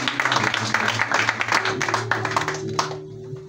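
A church congregation claps during an ordination service, dense rapid applause from many hands filling the room at close range, then thinning out and fading toward the end.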